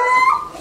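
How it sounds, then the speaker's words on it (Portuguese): A pet dog barks at a neighbour, giving one short, high, whining yelp that rises and then fades, close by and alone. "A Bel enxergou o vizinho e tá latindo."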